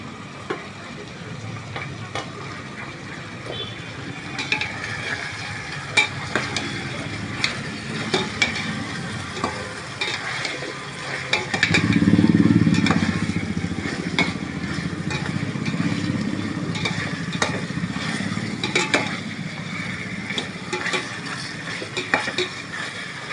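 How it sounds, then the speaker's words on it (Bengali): Garam masala and bay leaves frying in a heated pot, a soft sizzle with occasional stirring and clinks of a utensil against metal, fairly quiet and close, with a brief stronger burst midway. "গরম হলে আমি এই গরম মশলাটা তেজপাতা ছেড়ে দেবো।"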